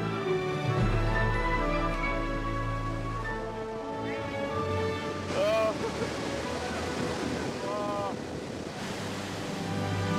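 Iguazu waterfalls roaring as a broad, steady wash of rushing water with wind buffeting, heard at a distance beneath scattered faint voices.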